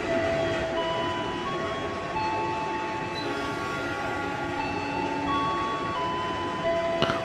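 Train in a train simulator game pulling out of Bangil station in Pasuruan, Indonesia, a CC 206 locomotive hauling the Ranggajati service, with a steady rumbling engine drone and tonal hum throughout, loud and continuous with no talk.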